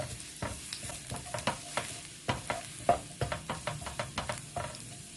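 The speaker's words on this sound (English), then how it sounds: "Fry until the aroma come out, or about golden brown." Ingredients frying in a pan until golden brown while making a Thai beef salad, with a steady sizzle broken by repeated stirring scrapes and clatters, close and moderately loud, no talking.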